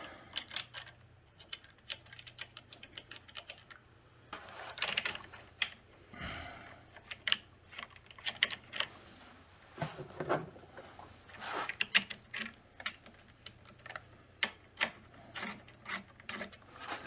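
Metal bolts being threaded and tightened by hand into the handlebar risers of a Burromax TT1600R, heard as irregular small clicks, taps and ratcheting ticks with a few soft clunks, close and fairly quiet, no talking.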